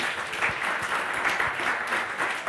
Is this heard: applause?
yes